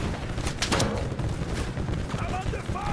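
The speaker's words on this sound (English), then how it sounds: "I'm under fire!" Gunfire from the WWI multiplayer game Over The Top, a burst of sharp shots around the first second over a steady din of battle noise, with distant voices mixed in.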